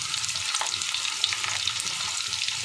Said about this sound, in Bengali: এবার আমি পেঁয়াজটা ভেজে নেব